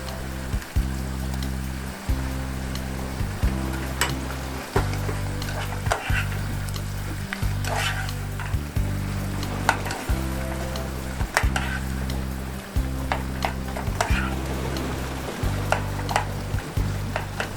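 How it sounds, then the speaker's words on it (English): Mushroom pasta with parmesan cooking in a pot on a boat or RV camp stove, a steady loud sizzling bubble with repeated low rhythmic thumps and occasional scraping clinks, no voices. "and let that simmer a bit"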